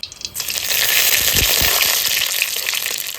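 Black cumin, dried chilies and bay leaf hit hot mustard oil in a kadai, giving a loud, steady crackling sizzle with a few sharp pops near the start, close and alone.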